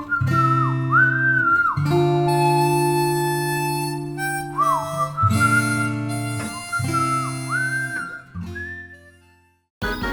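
Night town theme music from the video game Pokemon Sun & Moon plays as a bright, sliding melody with a whistled line over sustained low tones, loud and close, in phrases that pause briefly between them.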